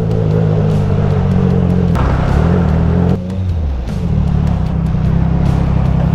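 Triumph Trident 660 motorcycle with a Zard full-system exhaust riding through traffic, a loud steady engine drone close by, dipping briefly as it shifts and then pulling again, with wind rush over it.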